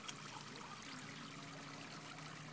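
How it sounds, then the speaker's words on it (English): Water pours steadily into a cup held up by a child in a blow-up pool, a soft continuous trickle at close range with no talk over it. "Can I pour water into your cup?"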